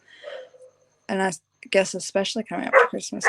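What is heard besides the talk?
neighbour's dog barking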